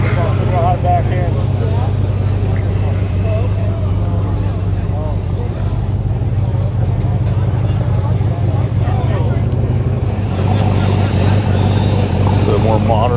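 A 1967 Corvette Stingray with a small-block 327 engine idles loudly and continuously at an outdoor car show, a deep steady rumble with constant crowd chatter and voices over it.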